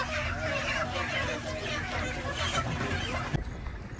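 Many chickens cluck and chatter together nearby, a busy flock sound with faint human voices mixed in, cutting off abruptly near the end.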